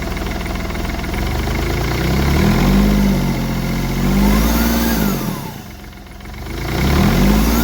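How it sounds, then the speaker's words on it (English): A Smart Fortwo diesel engine fitted with a new turbo cartridge revs up and settles repeatedly, the pitch rising and falling in several swells over a steady idle, close and loud, with a faint turbo whistle on the climbs. "I'll rev it up and we'll see how it sounds."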